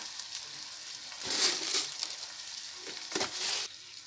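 Masala paste frying in a pan with salt for a tamarind fish curry, a steady close sizzle that swells into two louder bursts of hissing as the paste is stirred and pressed.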